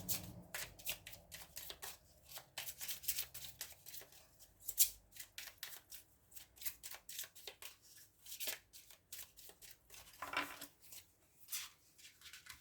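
Tarot cards being shuffled by hand in repeated riffling bursts with soft snaps and slides, close and fairly quiet, with no talking.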